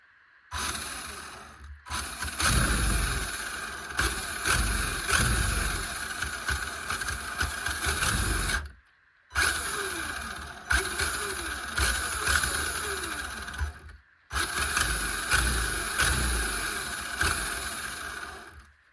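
A small engine of a Kyosho Tomahawk RC boat revs and runs in three long bursts, loud and buzzing, each cutting out briefly before starting up again.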